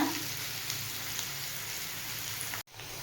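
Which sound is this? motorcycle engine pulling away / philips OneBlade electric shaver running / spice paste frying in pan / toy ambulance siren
spice paste frying in pan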